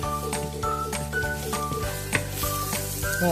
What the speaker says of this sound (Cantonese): 咁而家咧就等佢慢慢煎熟佢。